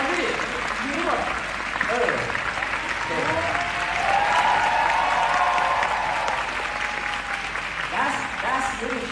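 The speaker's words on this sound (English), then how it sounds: "Receive an applause." A crowd at a leadership talk applauds as guests are asked to stand, continuous clapping and cheering filling the room while voices call out over it and a speaker talks through the noise.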